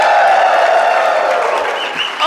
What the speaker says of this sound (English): They were like, oh, we clap after he says that.